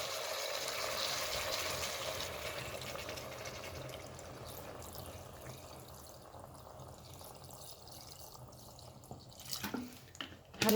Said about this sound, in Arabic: دابا غادي نضيف الماء.